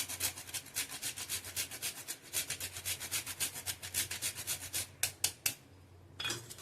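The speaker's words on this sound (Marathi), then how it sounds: "जायफळ घेतलं होतं ते किसून टाकूया" Whole nutmeg is grated by hand over a dinka ladoo mixture in quick, steady rasping strokes that are close and fairly soft, then stop briefly before a last rub.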